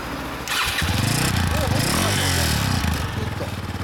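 A 2014 Yamaha Tricker 250 motorcycle starts up nearby, with a brief crank that catches into a loud, throbbing single-cylinder idle that carries on steadily, while people talk underneath.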